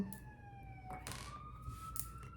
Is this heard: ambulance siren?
yes